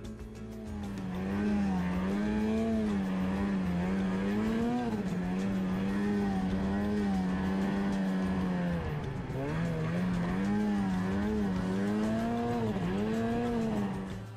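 A 2009 Arctic Cat M1000 RTR dealer-option turbo snowmobile is ridden through snow, its engine a loud, steady whine that warbles up and down as the throttle shifts, close and continuous throughout.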